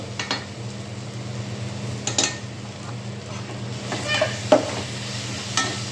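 Onion, tomato and green chilli masala fries gently in a pan under a steady low sizzle, and a spoon scrapes and clinks against the pan a few times.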